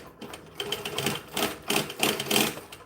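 A sewing machine revved in short surges while making a troll, its whirring motor swelling and dropping several times, close and fairly loud with no voices.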